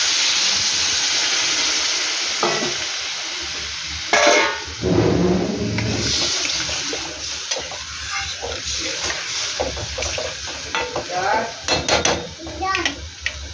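Fish curry broth (bata macher jhol) simmering in a pot, a steady hiss and bubbling with occasional clinks of utensils and stirring; a voice speaks briefly partway through.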